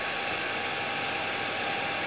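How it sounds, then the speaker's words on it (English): A hairdryer blows steadily at close range to dry super glue while tying a fly, a constant broad airy whoosh with no pauses and no talk. "speed up the process of drying the super glue just by the hairdryer"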